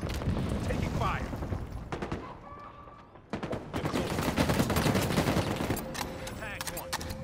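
Bursts of rapid gunfire and heavy booms from a Halo Infinite multiplayer match, dense and loud throughout, with a brief lull near the middle before the shooting resumes, under faint game announcer voices.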